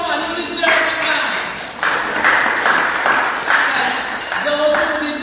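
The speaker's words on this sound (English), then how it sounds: "Give yourselves an applause." A church congregation applauds during a Sunday worship service, a broad wash of clapping and cheering that swells and dips under someone talking loudly over it.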